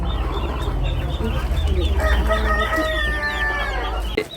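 Native country hens on a homestead farm cluck steadily while a rooster crows in a long drawn-out call near the middle, all close and fairly loud with no talking.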